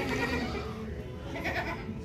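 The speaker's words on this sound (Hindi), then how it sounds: "ये देखें बकरा है बकरा।" Goat, a male billy, bleating faintly in a farmyard setting, a short wavering cry amid low background noise.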